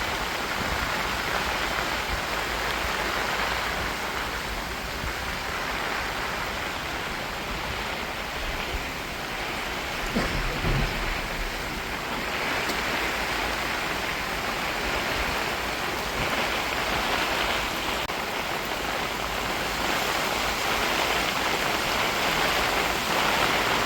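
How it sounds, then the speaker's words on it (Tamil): Heavy rain driven by strong wind pours down steadily over fields, a dense, even roar of water with no pauses and no voices. "சரியான மழைங்க."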